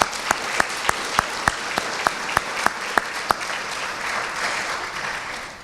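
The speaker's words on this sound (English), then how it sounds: "let's give them a round of applause" An indoor audience at a recognition tea claps in a crisp, even rhythm of about a dozen sharp hand claps, then breaks into a softer scattered patter that fades, with no voices heard.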